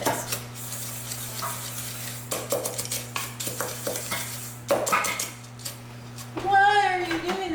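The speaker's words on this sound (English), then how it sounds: "We're just gonna mix" Cheesecake ingredients are mixed in a bowl at home, with repeated scraping and clattering stirring strokes at close range, a steady low hum behind, and a brief voice near the end.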